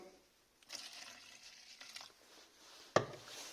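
White spirit is poured into a glass as part of a mix for car body repair, giving a soft, brief liquid trickle with a small clink near the end, close and quiet.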